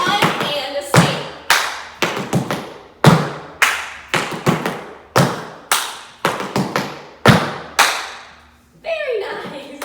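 Tap dancing shoes doing the buffalo step, a series of loud, crisp, close taps and thumps in repeated rhythmic groups on a hard floor, with brief talk near the end.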